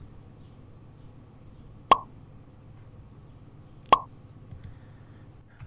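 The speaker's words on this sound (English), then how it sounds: "when that pop happens, we want a sound to play" Two short, sharp pop sound effects from a Wick Editor animation, spaced about two seconds apart over a faint low background hum.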